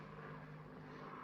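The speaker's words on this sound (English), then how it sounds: "Sounds like an aeroplane." An aeroplane drones overhead as a steady, low, continuous hum, fairly faint and even throughout with no voices over it.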